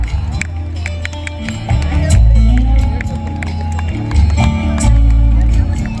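Audience applause and cheering at the Hampi Utsava 2025 inauguration, a festival stage event: loud crowd clapping in waves with a compère speaking over it.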